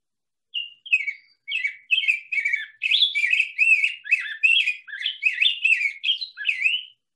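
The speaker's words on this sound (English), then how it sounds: "This is what they would call a rose-breasted grosbeak." Rose-breasted grosbeak, a seed-eating songbird, singing a long, rich, warbling phrase of sweet whistled notes that rise and fall in a continuous robin-like run, clear and close against a silent background.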